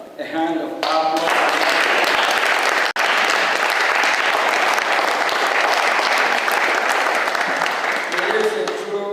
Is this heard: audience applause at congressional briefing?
yes